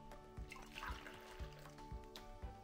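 Water drains through a paper coffee filter, a soft continuous trickle with small gurgles and faint drips, quiet and close.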